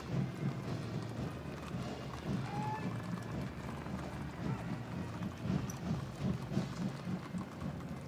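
The horses of the 1st Cavalry Division's Horse Cavalry Detachment clip-clop along a street in an inaugural parade, a steady, faint patter of many hooves over a distant crowd hum.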